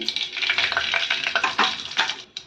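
Half a spoon of mustard seeds dropped into hot oil in a pot for masoor dal, giving a loud, dense crackling sizzle with rapid popping bursts throughout.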